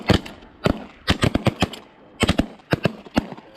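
Shotguns fire during a duck and goose hunt, a rapid volley of loud, sharp blasts in clusters from several shooters nearby over a few seconds.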